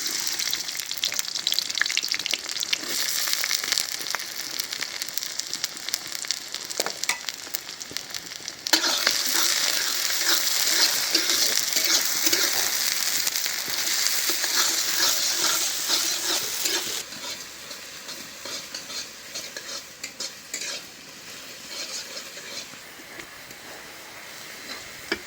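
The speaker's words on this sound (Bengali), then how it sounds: "পেঁয়াজ ভেজে নিলাম" Onions fry in oil in a pan for dried fish (shutki) curry, a steady close sizzle with stirring scrapes throughout, growing louder and denser midway before easing back to a softer hiss near the end.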